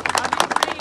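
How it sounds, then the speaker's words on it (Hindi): Quick, dense clapping from an audience at a public gathering about a government degree college near Katra, several hands patting in an uneven rapid burst, close and fairly loud. "एक जोर से ताली बजाओ अपने लिए।"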